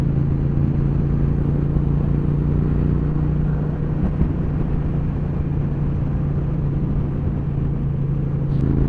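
A Triumph T120 motorcycle on a Norfolk coastal road holds a steady engine drone while riding and overtaking, with a constant low rumble and wind noise and no talking.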